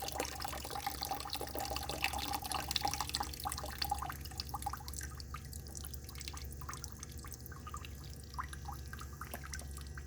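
Water draining from the hose of a Liberty 13-liter hypochlorous acid generator, a steady trickle with scattered drips and gurgles, fairly faint and continuous.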